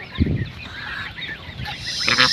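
White geese honk close by in a short burst of loud, nasal calls, with a brief gap before a final honk.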